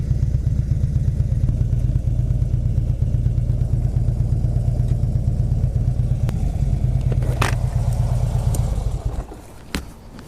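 A Harley-Davidson Switchback FLD in SunGlo Red running steadily up close with a loud, even low rumble that drops off near the end, followed by a few clicks and clatters.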